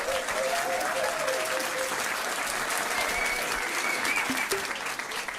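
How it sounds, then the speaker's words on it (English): A quiz-night audience at a pub claps in a steady, dense round of applause lasting several seconds, with a few voices mixed in. "Give them a round of applause."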